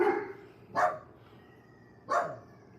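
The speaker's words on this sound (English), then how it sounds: "Dogs are noisy tonight." Dogs bark at night: two or three loud, sharp barks spaced about a second apart, close by, over a low steady background hum.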